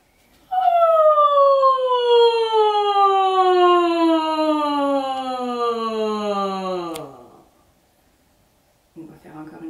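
A voice imitates a siren in a music class warm-up, gliding in one long, steady, descending wail for several seconds before fading. A brief voice follows after a pause.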